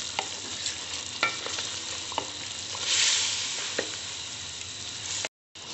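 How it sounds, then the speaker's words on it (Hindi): Marinated mutton sears in spices over high heat with a loud, steady sizzle and scattered clicks of a spoon stirring it, swelling briefly midway before cutting off near the end; no voices. "गोश्त को मैं मसाले में अच्छे तरीके से भून लूंगी"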